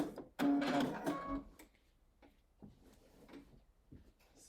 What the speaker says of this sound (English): I'm going to lock the stitches in place and cut and take it out.